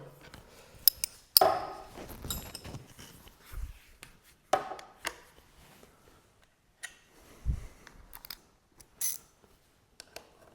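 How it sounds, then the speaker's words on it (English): A 14 mm open-end wrench works loose the reverse-threaded mirror on a motorcycle, giving scattered metallic clicks and ratcheting taps, close and fairly quiet, with short pauses between bursts. "So I'm going to start just by removing the mirror here."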